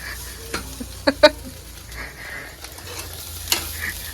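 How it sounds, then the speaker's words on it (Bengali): Potatoes frying in a black wok, a faint sizzle with a few sharp clinks and scrapes of stirring against the pan. "আলু ভাজা হচ্ছে কালো কড়াইটা"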